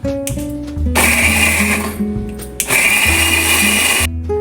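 Mixer grinder whirring loudly as it grinds onion and tomato pieces into a masala paste for a traditional fish curry, in two long bursts separated by a short pause, alone with no voices.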